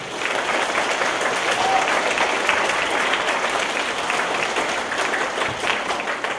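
A school audience gives a steady round of applause for sixth grade math competitors, dense clapping sustained throughout with a faint murmur of voices underneath.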